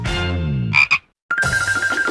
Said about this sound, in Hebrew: אוי לא, רק לא צפרדע.